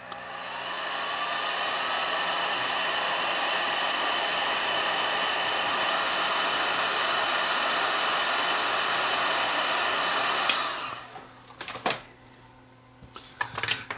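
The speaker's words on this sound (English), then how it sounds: "I'm going to put a piece of heat shrink tubing on here and shrink it down." A heat gun blows in a steady loud roar for about ten seconds while shrinking heat shrink tubing on a connector, then cuts off, leaving faint handling clicks and rustles.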